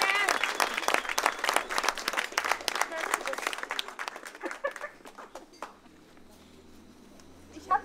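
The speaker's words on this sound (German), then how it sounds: "ein ganz fetter Applaus" A crowd at a rally gathering claps loudly in a dense burst that thins into scattered claps and fades over several seconds, with a faint clink of dishes and low murmuring toward the end.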